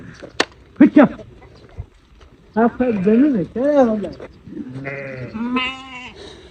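Sheep bleat several times in a row, close and loud, the wavering calls overlapping with people talking nearby on a farm.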